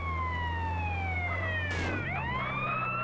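A wailing ambulance siren in GTA San Andreas, its tone sweeping down steadily, then dipping sharply and rising again, loud and close over a low engine drone, with no talking.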